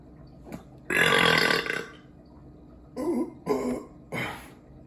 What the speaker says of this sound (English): I mean, my burp.